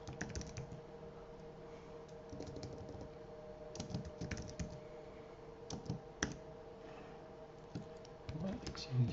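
Steady, soft clicking of typing on a computer keyboard, with fast key taps running through the whole stretch under a low background hum.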